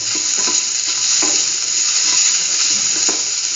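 Salt is stirred into tomato and bell pepper Maggi instant noodles in a pan, a steady sizzle and frying hiss with soft scraping stir strokes, close and continuous.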